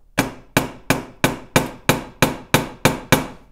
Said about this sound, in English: so I got a little brass hammer here. Just tap it in.